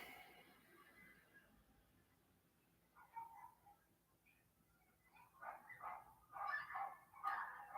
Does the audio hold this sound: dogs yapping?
yes